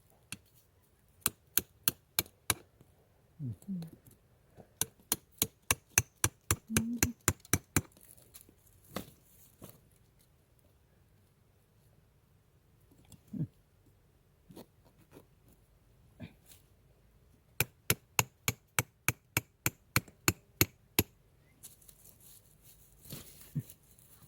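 A knife chops bamboo during honey hunting in a Lao bamboo grove, striking in fast, sharp, evenly spaced bursts of a dozen or more blows, pausing, then starting again, close and loud over quiet surroundings.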